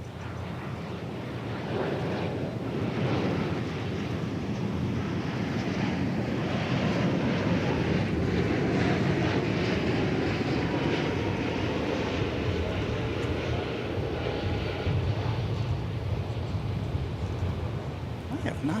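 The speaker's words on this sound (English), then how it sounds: "another Dreamliner lined up. This one's coming in from Los Angeles." Boeing 787 Dreamliner jet airliner arriving from Los Angeles on approach to land at Dallas Fort Worth airport, a steady broad roar held loud for most of the stretch with wind buffeting the microphone.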